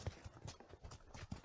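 Horse hooves clip-clop at a steady walking rhythm on a mountain trail in Pahalgam, close and fairly loud, with a few soft thumps between the steps and no talk.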